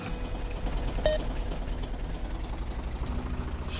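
A tractor engine in the farming game Der Landwirt 2014 runs steadily at idle, giving a low, continuous rumble with a faint knocking pulse and no speech over it.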